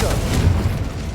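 Confringo fire spell cast in Hogwarts Legacy, a low rumbling whoosh with a muffled boom, brief and fairly loud against game sound.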